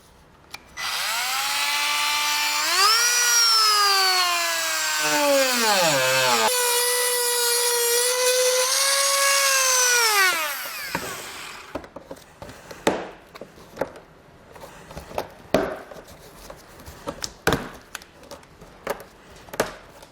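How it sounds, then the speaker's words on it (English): High-pitched whining of a Dremel rotary tool cutting through the thin plastic bumper fascia of a 2021 Subaru, a loud sustained whine that bends in pitch, then scraping and cracking of plastic as pieces are worked loose. "I'm going to use a Dremel tool to get that cut out"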